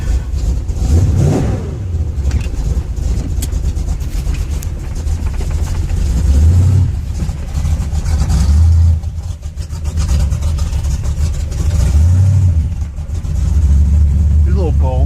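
A cold-started car engine with a TCI 3000 rpm stall converter idles in reverse gear on a cool, rainy day, with a steady low rumble and occasional slight swells, while someone talks over it.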